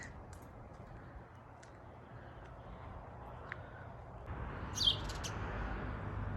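A parent sparrow sings somewhere in the background near a fluffy juvenile. A few faint, scattered chirps sit over a quiet outdoor hiss, with one slightly louder note near the end.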